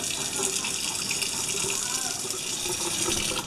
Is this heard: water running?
yes